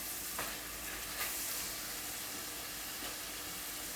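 Curd and masala are stirred together in a pan for paneer toofani, making a faint continuous sizzle with a few soft scraping strokes.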